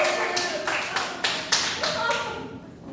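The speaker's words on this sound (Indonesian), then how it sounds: "terima kasih buat Maulidi tepuk tangan" A classroom group claps briefly, with a handful of separate claps at an uneven beat and a teacher's voice nearby, the clapping fading out after a few seconds.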